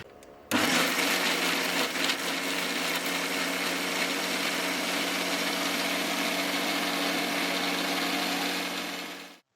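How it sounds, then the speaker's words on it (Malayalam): A blender making carrot milkshake whirs to life abruptly and runs at a steady, loud drone for several seconds before cutting off. "മിക്സിയിൽ വെച്ച് അടിച്ചെടുക്കാം"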